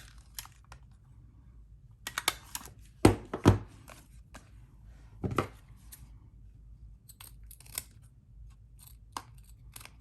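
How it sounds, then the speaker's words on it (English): A stapler driving staples into stamped fabric, a few sharp close clacks and crunches, with two loud snaps near the start and softer clicks and handling rustles scattered around them, with no talking. "I'm just going to staple him on here."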